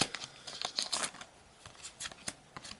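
Quick crisp scissor snips and crinkly plastic rustles as trading card booster packs are cut open, close up, in short irregular bursts with brief pauses between them.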